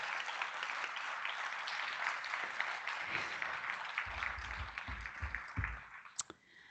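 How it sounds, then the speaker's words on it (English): Audience applause fills an awards ceremony hall, a steady wash of many hands clapping at moderate distance that thins and breaks into a few scattered claps near the end. "Let's give them all a big round of applause."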